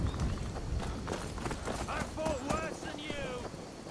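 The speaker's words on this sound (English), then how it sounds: "Oh, the horses are attacking me now." Horses gallop and attack in the video game Skyrim, with a fast clip-clop of hooves running steadily through the clip beneath game voices and occasional whinny-like cries.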